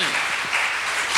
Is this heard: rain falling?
no